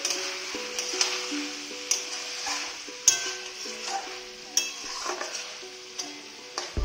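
Meat frying in the oil it has released, in a pot, makes a continuous light sizzle broken by several sharp utensil clinks and stirring knocks at irregular intervals, with no one speaking.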